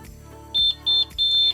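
A heat press for a sublimation magnet gives three short, shrill electronic beeps in quick succession, close and loud against a quiet room.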